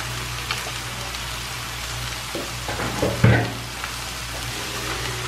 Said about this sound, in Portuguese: E eu deixei já a cebola dar uma fritada aqui. E aí vamos juntar o abacaxi.